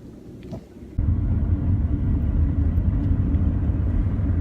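A low, steady road rumble fills the cabin of a car driving on the road, starting abruptly after a quiet moment and continuing as a constant droning hum.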